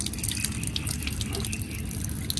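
Water runs steadily from a tap, a continuous close splashing and trickling stream with small drip-like spatters and no voices.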